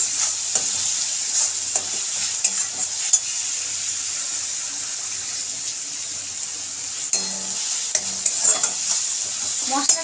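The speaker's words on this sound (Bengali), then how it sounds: "এবার ভালো করে মশলাটাকে কষিয়ে নেব।" Spices with cumin powder are stirred and fried in a pan for a hilsa fish curry, making a continuous close sizzle broken by scraping stirs, with no talk.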